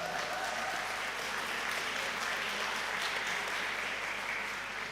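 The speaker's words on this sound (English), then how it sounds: "applause for all of you" Sustained applause from a graduation ceremony audience fills the hall, dense steady clapping that holds at an even level throughout with no pauses.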